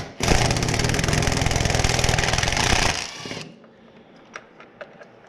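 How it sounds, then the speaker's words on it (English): A power tool zips out T30 Torx bolts on a Can-Am Renegade XMR 1000R ATV, a loud, rapid buzzing whir running about three seconds before cutting off, followed by faint clicks and handling noises. "They're a T30 Torx, so we'll go ahead and get those zipped out."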